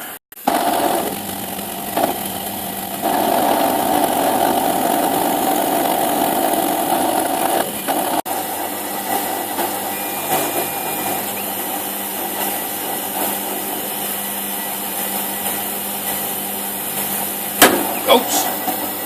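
A spindle moulder with a power feed runs steadily, its motor whining loud and constant as wood is fed through, then the tone drops and thins after a sudden change, with a couple of sharp knocks near the end.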